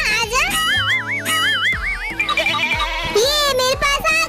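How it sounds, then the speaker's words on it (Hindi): A goat gives several shaky, wavering bleats close by, alongside a voice and a bouncy background sound. "ये मेरी बकरी है"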